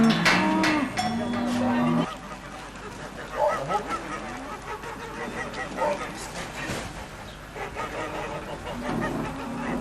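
Cows gathered in a holding pen before being loaded onto livestock trucks moo repeatedly, with several long, loud calls overlapping amid shuffling and general farmyard noise.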